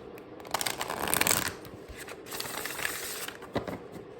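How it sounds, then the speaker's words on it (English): Oracle cards being shuffled up close, a run of quick papery riffles and flutters in bursts, with brief pauses between them. "let's do one more shuffle"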